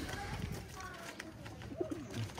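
A pigeon coos softly a few times, low and rounded, under quiet background noise and faint human voices nearby.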